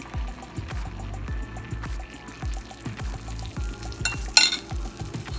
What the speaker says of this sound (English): Hear that nice sizzle.